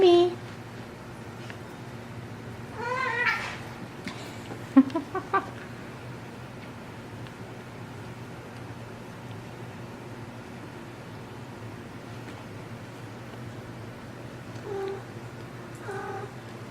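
Maine Coon kittens meowing at home while playing roughly, a few short cries scattered through a steady room hum, with someone talking at points.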